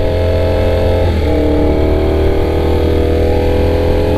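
Ducati Panigale V4 2022 motorcycle engine running close by, a loud steady rumbling idle with a couple of brief pitch dips, continuous throughout.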